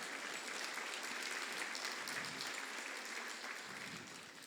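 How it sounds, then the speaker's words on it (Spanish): A church congregation at a family gathering applauds together, a steady dense clapping that holds evenly for several seconds before easing slightly at the end, with no voices standing out. "dele un aplauso al Señor"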